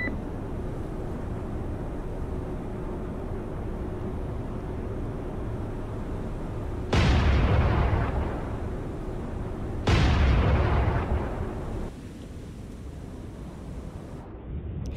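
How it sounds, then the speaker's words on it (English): Naval guns fire in Cold Waters, the submarine warfare game: two heavy booming shots a few seconds apart, each with a long rumbling decay, over a constant low background hum. "Guns engaging."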